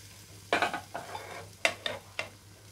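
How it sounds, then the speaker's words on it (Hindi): Dried dates and raisins roast in ghee over low heat in a pan for sheer khurma, stirred with a spoon, making several close scraping strokes over a soft sizzle. "इसको भी इसी तरह से चलाते हुए हम हल्का सा रोस्ट कर लेंगे धीरी आंच पे।"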